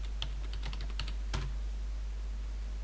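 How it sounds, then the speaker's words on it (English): Password typed on a computer keyboard: a short quick burst of key clicks, then one firmer keystroke like a press of Enter, over a low steady hum. "I've got to enter the password again"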